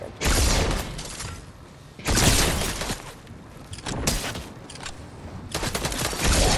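Rapid bursts of gunfire from shooting in Fortnite: three loud, dense volleys separated by brief lulls, close and continuous, with no talking.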